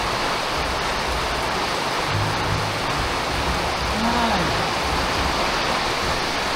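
Heavy typhoon rain and wind roar as a dense, constant hiss, loud and unbroken throughout, with a faint voice briefly audible beneath it.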